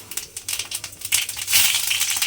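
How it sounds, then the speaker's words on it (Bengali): Mustard and fennel seeds tempered in hot oil in a pan, a dense stream of crackling and popping sizzle that thickens and grows louder toward the end, with no talk. "এইবারে আমি তেলের মধ্যে দেব অল্প একটু সর্ষে আর মৌরি ফোড়ন দিলাম"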